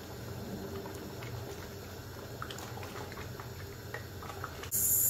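Nigerian white soup bubbling at a low simmer in a pot, a faint steady burble with small pops and occasional soft stirring sounds, ending in a brief louder hiss.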